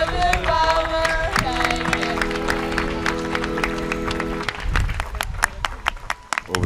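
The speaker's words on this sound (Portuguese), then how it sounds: "para o Padre Delfim, uma salva de palmas." Applause for the priest at a Sunday Mass closing catechesis in Esposende, a church congregation clapping steadily and fairly loud, with a sustained organ or keyboard chord sounding underneath for a few seconds.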